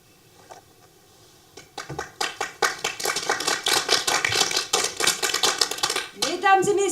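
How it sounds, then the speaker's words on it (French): Applause breaks out in a theatre after a school principal's speech in a staging of the play La visite de la vieille dame, building from scattered claps into steady, fairly close clapping for several seconds before fading beneath a voice. "Messieurs, vous entendez ces applaudissements?"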